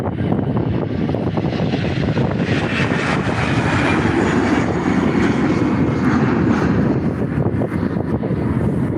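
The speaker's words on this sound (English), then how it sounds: "enjoy this last departure of the day. Tapper 20 back to Lisbon" A TAP airliner departs Faro airport bound for Lisbon, its jet engines roaring loudly and steadily throughout with a broad, continuous rumble and no voices.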